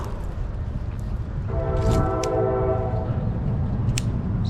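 Passing train sounding its horn outdoors near water, a sustained multi-tone blast lasting under two seconds over a low rumbling rail roar, with a few faint clicks nearby.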